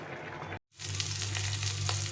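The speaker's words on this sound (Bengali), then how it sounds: "এখানে আমি করলা ভাজা করছি" Sliced, pre-boiled bitter gourd rounds fry in a pan with a dense, close sizzle that cuts out abruptly for a split second, then returns steady and bright with small pops.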